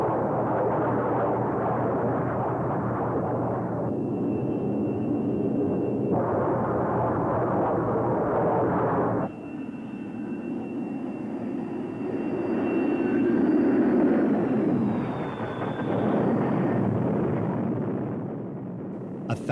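An F-14 Tomcat jet on landing approach to an aircraft carrier, its engines roaring loud and steady throughout, with the tone shifting and swelling partway as the jet draws nearer.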